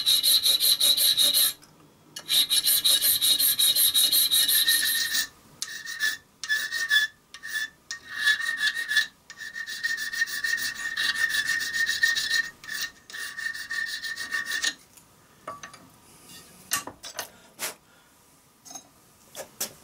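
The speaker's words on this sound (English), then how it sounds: "the final shape with the file and just start to take off the excess" Hand file rasping metal to shape a part for a gauge 1 live steam model, steady close strokes at first, then shorter broken bursts with pauses, loud and alone.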